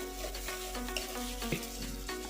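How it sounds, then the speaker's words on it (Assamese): Duck meat dropped into hot spiced oil in a pan, sizzling and frying steadily at close range with a dense crackle and a few small pops, no voices. "মই ইয়াতে এতিয়া মাংসখিনি দি দিম"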